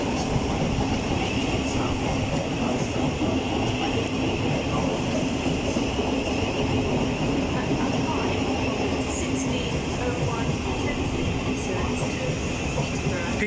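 A train pulls into London Bridge station with a continuous heavy rail rumble and rushing noise, close and steady for the whole stretch, with clattering wheel sounds underneath.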